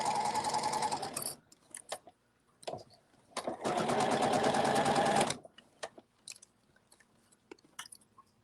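Sewing machine stitching soft Minky fabric for an infinity scarf, two loud sustained bursts of rapid mechanical whirring separated by short gaps with scattered small handling clicks, heard up close.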